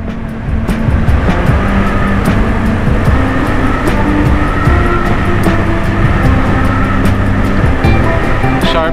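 A Yamaha XMAX 300 scooter is ridden along a road in Bagac, Bataan, with a loud steady engine drone and heavy wind rush throughout, and a rider's voice breaks in briefly.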